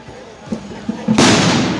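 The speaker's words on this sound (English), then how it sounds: "Some dude threw a firework over." A firework thrown at a street protest goes off with a sudden loud burst and hissing crackle after a few faint thumps, close by, amid voices.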